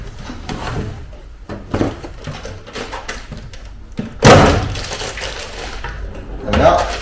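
A bottom drawer slides open on a Kovax tray with wooden knocks and rattles, building to a loud scrape-and-thud near the end, followed by a final softer clunk.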